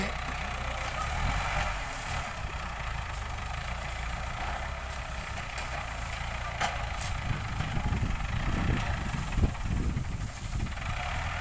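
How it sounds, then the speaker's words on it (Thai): A Ford single-plough farm tractor converted into a sugarcane grab loader runs at idle, a steady low engine drone with continuous rumble, moderately close, with no talking over it. "รถไถฟอร์ดเพาเดียวนะครับถูกประยุกต์และนำมาใช้นะครับในกระบวนการที่ เรียกว่าเป็นรถคีบอ้อยนะครับ"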